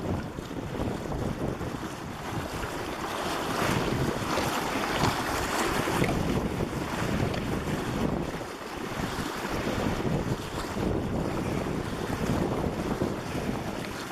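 River water rushes steadily around a person wading knee deep downstream in the Mackenzie Mountains, a loud continuous broadband surge with wind buffeting the microphone throughout.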